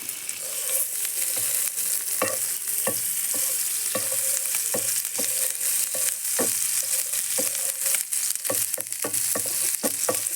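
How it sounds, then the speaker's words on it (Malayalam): Bread slices toasting in butter in a pan sizzle steadily and close up, broken by repeated scraping taps of a utensil against the pan throughout, with no voices. "അതിലേക്ക് അടുത്ത രണ്ട് സ്ലൈസും കൂടി നമുക്ക് ടോസ്റ്റ് ചെയ്തെടുക്കാം"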